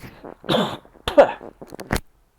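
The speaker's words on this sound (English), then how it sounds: "I got a cough." A person coughs several times in quick bursts, close to the microphone, with a harsh throat-clearing quality, then silence.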